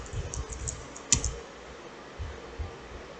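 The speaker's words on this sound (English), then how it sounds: "type in the command ipconfig." A computer keyboard types the command ipconfig: a short run of light, close key clicks with one sharper tap, quiet and without speech.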